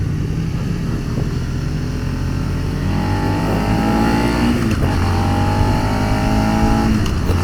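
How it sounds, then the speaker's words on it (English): Suzuki SV 650 motorcycle engine revving up under acceleration, a steady loud drone with rising engine tones that climb and drop again, heard up close with no talking. "If you put just a little bit, you can really feel the bike push."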